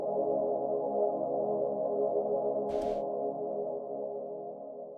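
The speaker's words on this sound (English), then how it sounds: "The initial pad now sounds like this." Sustained synth pad for a beat, holding a steady warm chord that fades slightly toward the end, with a brief noisy hit partway through, played alone.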